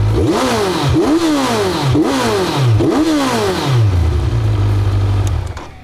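A warm Yamaha MT10 motorcycle engine revs hard in four quick rising-and-falling sweeps, then drops back to a steady loud idle that cuts off abruptly at the end.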